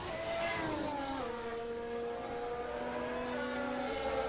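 A race car pulls away from pit lane during a series race at COTA, its engine note rising and shifting through gears with steady harmonic tones, loud and close, with other cars droning behind.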